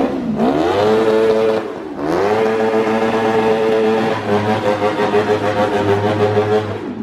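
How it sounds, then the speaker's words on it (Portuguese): A Yamaha Fan 600R motorcycle with a cut crankcase, fitted with a particular fuel tank, revs hard on the street in long sustained pulls without reaching the rev limiter, dropping briefly between bursts and then holding a steady, wavering high drone, loud and close. "a moto não tá limitando com esse tanque"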